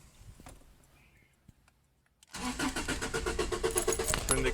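A key turns with a faint jingle, then a 1996 Subaru Legacy engine cranks and fires, settling into a loud, steady idle close by after a quiet pause.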